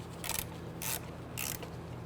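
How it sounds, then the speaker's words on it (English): Three bursts of ratchet clicking as the shift cable bracket bolts are tightened on a 1994-2004 Ford Mustang 3.8L V6, each roughly a quarter second long, close and fairly loud, with a low steady hum underneath. "Now we can go ahead and tighten down the bracket bolts."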